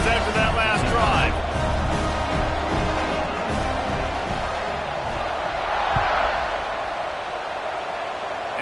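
Football stadium crowd roaring after a touchdown drive and extra point, a dense, steady wash of cheering and babble with a swell near the start and another around six seconds.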